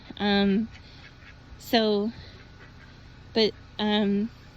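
Ducks quack in several loud, nasal calls, four separate bursts spaced apart over a steady low background hum.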